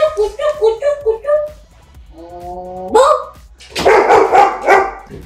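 A pet dog gives a string of high yips and whining, howl-like barks, loud and close, ending in a busier flurry of rapid barking.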